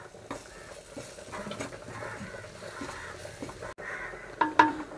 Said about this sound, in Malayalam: ഇതെല്ലാമിട്ട് നമുക്കൊന്ന് മൂപ്പിച്ചെടുക്കാം